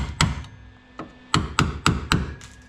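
A hammer taps a car body panel seven times in uneven bursts, each sharp knock leaving a faint metallic ring, close by and with no speech.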